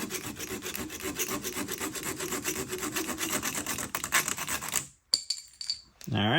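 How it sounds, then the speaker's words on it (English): Small retractable hand saw with a slide-out backer cutting wood, rapid rhythmic rasping strokes close up, then stopping with a few light knocks and handling sounds. "I think it's a retractable razor, but you push it out and it's a little saw blade."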